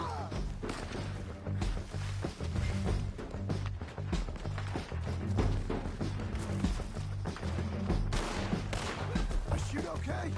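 Dense gunfire from a Red Dead Redemption 2 shootout runs nonstop, with rapid overlapping shots and thuds forming a loud, continuous barrage for the whole stretch.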